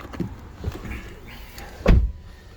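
Power-folding door mirrors on a Honda Jazz 1.3 i-VTEC SE, a short electric motor whir ending in a firm thunk as the mirror locks, close by and without talk.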